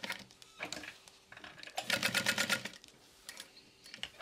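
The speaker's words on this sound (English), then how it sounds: "So I'm gonna go ahead and sew these into place. Turning my machine on will be helpful." A sewing machine stitches a hip bag in quick runs of rapid, rhythmic mechanical tapping, close and fairly loud, stopping and starting between bursts, with no talking.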